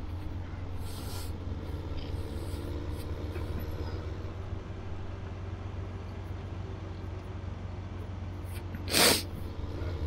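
One short, sharp sneeze bursts out near the end, close by, over a low steady hum of background noise.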